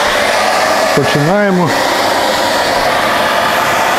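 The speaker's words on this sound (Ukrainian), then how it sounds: "беремо звичайнісінький фен, яким сушить волосся ваша жінка" A hair dryer blows steadily and loudly to thaw ice inside a no-frost refrigerator. Its constant whooshing rush fills the whole stretch, and someone speaks briefly over it.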